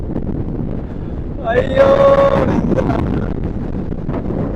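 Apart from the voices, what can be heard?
strong wind blowing on a beach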